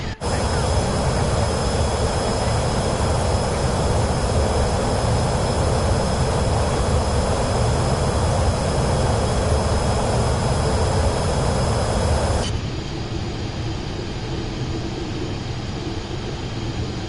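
A Pilatus PC-24 jet takes off in Microsoft Flight Simulator 2024, a loud, steady jet engine roar with broadband rushing that drops abruptly to a lower, quieter hum near the end.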